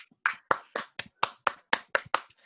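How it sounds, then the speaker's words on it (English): A small round of hand claps, about ten sharp claps in a steady rhythm, close and fairly quiet, with no talking over them. "Round of applause,"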